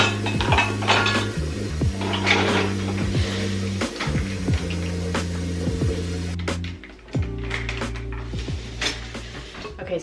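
Dishes, pots and cutlery clatter and clink in a home kitchen sink as they are washed at night, with steady close clanks and scrapes and a tone-like hum running through.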